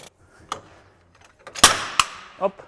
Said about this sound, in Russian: Сейчас будем опять ее выбивать